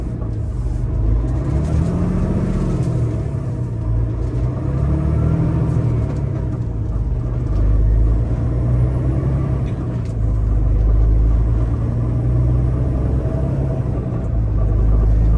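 A Peterbilt 579 Ultra Loft semi truck's engine rumbles close by as it pulls away, the motor rising and falling through the gears while it keeps rolling.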